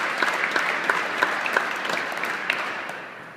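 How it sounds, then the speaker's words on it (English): Steady applause from an audience at a St. Louis Downtown Airport event, dense clapping with no voices, holding loud throughout and tapering slightly at the end. "They deserve a big round of applause as well."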